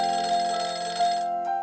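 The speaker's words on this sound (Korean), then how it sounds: "그날 오후 3시 인사팀 이현주 팀장으로부터 전화가 왔습니다." A steady electronic telephone ring with a bright, sustained tone, cutting off briefly near the end before a short resumption; no voices.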